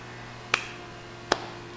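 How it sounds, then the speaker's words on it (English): Two sharp, separate hand claps ring out close to the microphone about three quarters of a second apart, each a crisp isolated smack over a faint steady hum, with no voices. "I'm just clapping for you"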